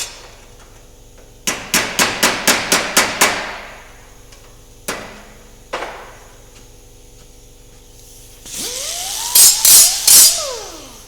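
Close, sharp metallic hammer blows smoothing a sheet metal patch panel on a 1967 Austin FX4 front fender edge: a quick run of about eight strikes, two single taps, then a burst of ringing, higher-pitched metal impacts.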